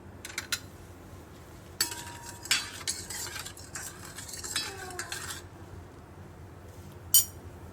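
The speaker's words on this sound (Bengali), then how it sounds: "এগুলো দিয়ে একটু হালকা করে নেড়ে দিই।" A spoon lightly stirs a raw chicken mixture for kebabs in a bowl, making quiet intermittent scrapes and clinks in short bursts, with one sharp metallic tap near the end.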